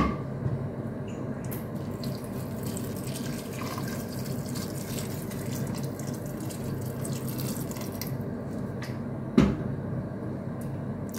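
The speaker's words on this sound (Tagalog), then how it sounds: "mag-a-add na ako niyang tubig" Water pours steadily from a tap into a cooking pot holding green beans and minced meat, a continuous close running sound that ends with a sharp clunk near the end.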